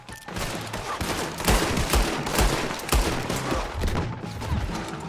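Gun battle in Red Dead Redemption 2, rapid overlapping shots cracking in bursts with several louder near blasts over a steady din of distant fire, no voices heard.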